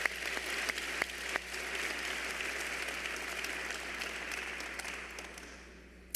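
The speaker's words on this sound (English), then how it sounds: "that deserves a big round of applause" The crowd at the Richmond Community High School 2018 graduation ceremony applauds in a large hall. A few sharp claps stand out at first, then the steady applause gradually fades toward the end.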